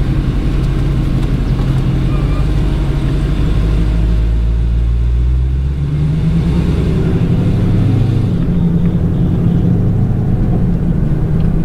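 Race cars at a Street Car Takeover event in Bowling Green start up and idle, a loud, continuous low engine rumble with shifting pitch, dipping briefly before building again.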